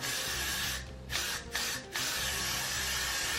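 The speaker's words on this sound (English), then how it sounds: "So then we're gonna spray here." Got2b hairspray misted onto a wig, a steady broadband hiss that pauses briefly twice near the middle before resuming, close and fairly loud.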